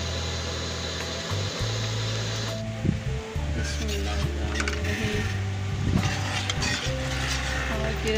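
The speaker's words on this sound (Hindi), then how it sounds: "दाल मिक्स होने वाली है माशाल्लाह" Red lentil dal being stirred in a pot for masoor dal, with spoon scrapes and clinks over a steady simmering sizzle, close and fairly loud, under a low hum.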